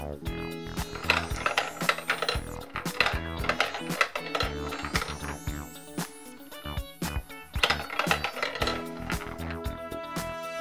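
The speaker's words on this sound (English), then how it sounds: "Now down the gumball machine." A toy gumball rolls and clatters down a plastic Littlest Pet Shop Sweet Delights gumball machine play set, making rapid rattling clicks in bursts, loud and close, with music playing throughout.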